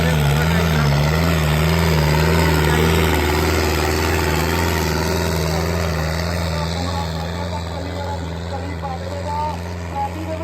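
A Sonalika tractor engine runs steadily nearby, a continuous low, throbbing drone that holds for the whole stretch and eases slightly toward the end.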